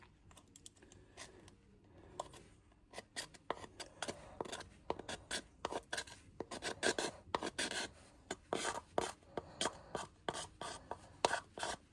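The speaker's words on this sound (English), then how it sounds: "It's a little bit rough around those edges, so we need to sand them or deburr them." Sandpaper rasps and scrubs along the rough edges of a cast epoxy resin soap dish, close and busy, in quick irregular strokes that grow denser and louder after the first few seconds.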